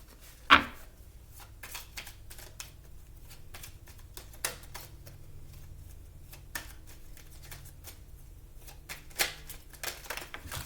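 Kipper oracle cards being shuffled during a reading: soft, dry papery riffles and taps recur throughout, with one sharper snap near the start, fairly close and quiet with no talking.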